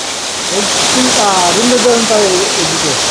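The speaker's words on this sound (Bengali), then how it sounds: "সুন্দর একটা ঝর্নার সৃষ্টি হয়েছে" Continuous loud rushing water of a waterfall, with people talking over it.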